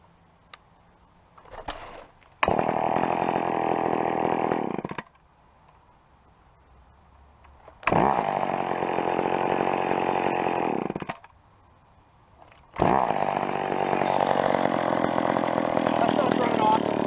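An old McCulloch chainsaw, freshly tuned, is throttled up to a loud, close, high-speed scream three times, dropping back to a low idle between each long rev.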